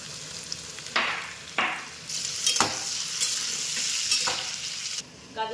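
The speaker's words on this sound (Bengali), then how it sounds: "গাজরগুলো এখানে আমি খুব হালকা করে ভেজে নিয়েছি" Carrots lightly frying in a pan for a vegetable dal give a steady sizzle, broken by several sharp scraping bursts of stirring, with no voices.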